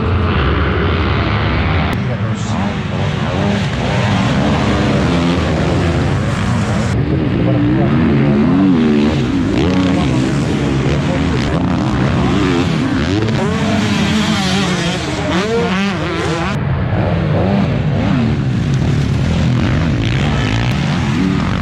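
Several motocross bikes race past at an MX Liiga pro event in Polva, Estonia, engines buzzing and wailing loudly and continuously, with rising and falling pitch as riders accelerate and shift through the whole stretch.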